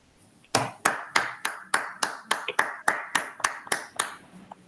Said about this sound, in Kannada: ಎಲ್ಲರ ಪರವಾಗಿ ನಾನೇ ಚಪ್ಪಾಳೆ ಹೊಡೆದಿದ್ದೀನಿ